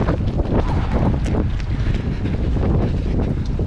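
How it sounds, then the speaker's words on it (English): A strong headwind during a road running race in Portland buffets the microphone, giving a continuous loud low roar and rumble that fills the whole stretch, with no talking. "definite headwind"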